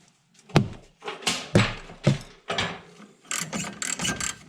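A ratchet wrench with a 7mm Allen bit loosens a CV axle bolt on a 1999 Beetle. Several loud, close metallic clicks and clunks come in uneven strokes, followed by a faster run of ratcheting clicks, with no talk.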